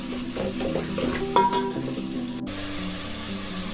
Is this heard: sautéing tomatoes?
yes